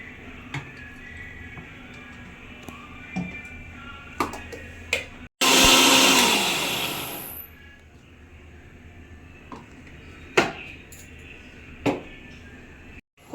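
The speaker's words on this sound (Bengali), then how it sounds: "এবার আদা রসুন কাঁচা লঙ্কাটাও পেস্ট করে নেব।" An electric mixer grinder whirs loudly for about two seconds as it grinds ginger, garlic and green chilli into paste, then winds down; scattered kitchen clicks and knocks come before and after.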